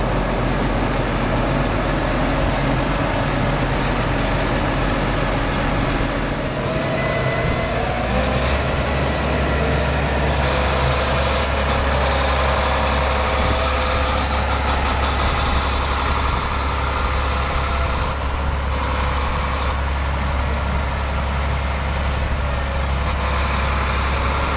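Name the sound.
John Deere 8RX tractor engine idling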